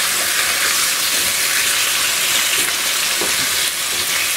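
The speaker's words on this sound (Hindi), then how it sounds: "प्याज डाल के इसको थोड़ा सा" Onions frying in a pan over a full flame make a loud, steady, dense sizzle with faint stirring scrapes underneath while chicken jalfrezi is being cooked.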